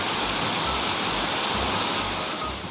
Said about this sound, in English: Kilgore Falls in Harford County is Maryland's second highest free-falling or vertical drop waterfall.